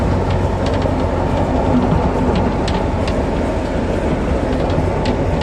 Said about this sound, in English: We are racing the train.